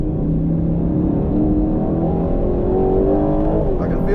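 A 2025 Aston Martin Vantage on a race track, its engine droning steadily and loudly from inside the cabin as it picks up speed, with a faint voice underneath.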